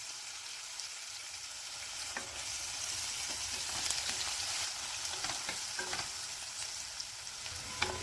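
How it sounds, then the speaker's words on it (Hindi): Finely chopped onion frying in hot ghee with cumin seeds and dried red chilies, a fairly soft, continuous crackling sizzle with scattered stirring clicks throughout. "घी गर्म होने पर अब डाल देते हैं इसमें 1 चम्मच जीरा। अब डाल देंगे सूखी लाल मिर्च 3 से 4। मिर्च डालने के बाद अब डाल देते हैं बारीक कटा हुआ प्याज"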